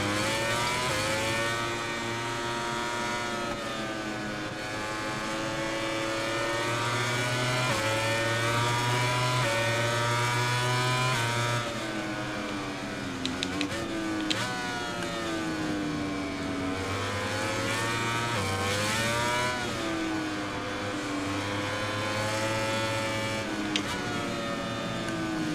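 MotoGP 21 racing game in career mode, high-pitched motorcycle engines screaming and rising and falling in pitch through gear changes, a continuous loud drone with a rival Ducati close by.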